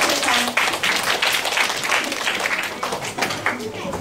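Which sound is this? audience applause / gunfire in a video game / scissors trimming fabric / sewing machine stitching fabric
audience applause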